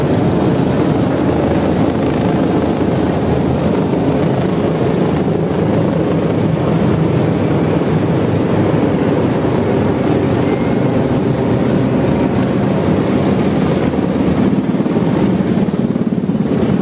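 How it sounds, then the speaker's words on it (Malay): Military helicopters in diamond formation pass over Putrajaya during a Malaysian National Day parade rehearsal, their rotors and engines making a loud, steady, unbroken roar that lasts throughout. "formasi pesawat helikopter dalam gabungan Diamond Formation."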